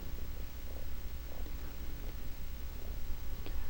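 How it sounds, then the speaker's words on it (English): A kitten's soft, low continuous purr rumbles faintly and steadily throughout, close but quiet, with no voices. "I don't know if you can hear him purring a little bit."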